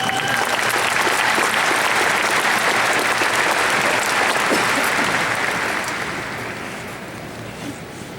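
Audience applause fills a high school graduation ceremony for East Central Independent School District, a dense, steady clapping from a large crowd that holds for several seconds and then gradually thins and fades toward the end.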